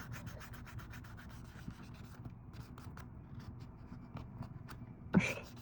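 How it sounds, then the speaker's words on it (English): A toenail filed down to remove a ridge during a pedicure, rapid close rasping strokes in a steady rhythm, fairly quiet, with a sharper scrape near the end. "file it down and remove that ridge"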